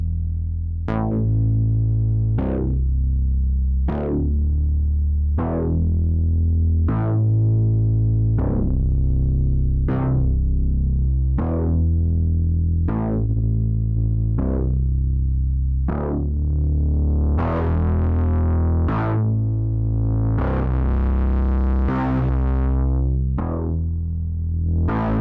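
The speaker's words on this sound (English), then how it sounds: "You hear from this simple, so to speak, distortion, it can do crazy things, the quality of Eventide plugins." Eventide Crash Stations distortion plugin processing a bass-line and drum loop, a loud continuous distorted groove with steady rhythmic hits, the tone turning grittier and noisier toward the end, with no voices.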